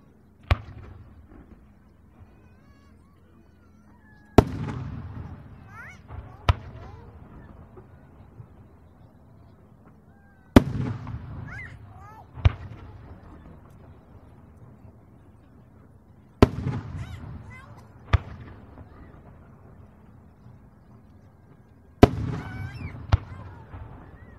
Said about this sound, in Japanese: 芯が二重に入り全体で三重に開く花火です。